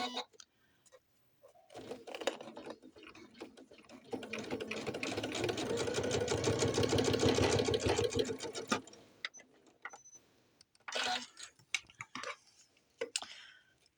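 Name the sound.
Janome sewing machine stitching with red thread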